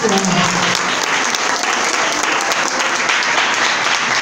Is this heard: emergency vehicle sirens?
no